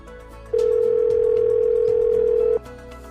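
A loud steady telephone tone sounds for about two seconds while a call is being placed, then cuts off abruptly, with faint background noise before and after.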